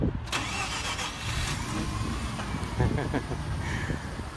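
A twin-turbo Mazda RX-7 from the 90s fires up, its rotary engine cranking briefly before catching and settling into a rough, steady idle nearby, with people talking over it.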